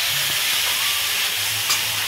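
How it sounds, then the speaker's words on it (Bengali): Chana dal for a coconut lentil dish hits hot, oily spiced masala in a pan and sets off a steady, close, broadband sizzling hiss that holds throughout. "এই যে আমি ছোলার ডালটা ঢেলে দিলাম।"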